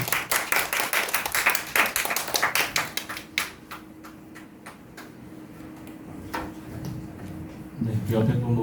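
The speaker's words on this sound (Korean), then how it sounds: "우리 박수로 환영하도록 하겠습니다." A church congregation at a Sunday worship service claps to welcome the pastor, a dense burst of applause that thins into scattered claps and fades, after which a voice begins speaking.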